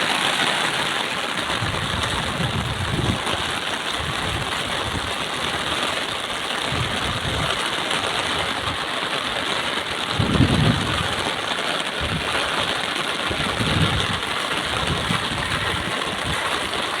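Heavy rain pours over farm fields in a steady, dense hiss that fills the whole stretch, with occasional low rumbling bursts underneath.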